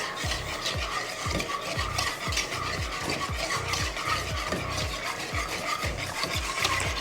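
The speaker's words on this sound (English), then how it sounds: "Just scrape the bottom and the sides and make sure you get all of that sweetened condensed milk mixed in with your other ingredients" A utensil scrapes and stirs the bottom and sides of a dish of homemade ice cream mixture with sweetened condensed milk, giving rhythmic, close, gritty strokes with no talk.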